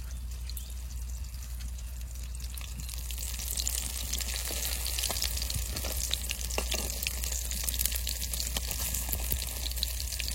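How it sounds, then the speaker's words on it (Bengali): Fish and poppy seed fritters frying in mustard oil give off a constant soft sizzle with occasional bubbling pops, close and fairly quiet, and nobody speaks. "এই যেরকম করে পাতলা পাতলা করে ভেজে নেবো বড়াগুলো"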